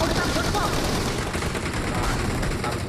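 Rapid, continuous gunfire rattles in PUBG Mobile, dense automatic bursts filling the whole stretch at full loudness, with players talking over the shooting.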